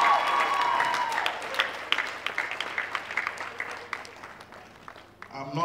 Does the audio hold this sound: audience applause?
yes